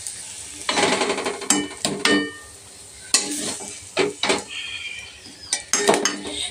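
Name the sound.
pan of fried greens being taken off the stove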